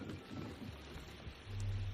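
Steady rain falls outside an estate in the video game Assassin's Creed Shadows as a faint, even hiss, with a low rumble swelling near the end.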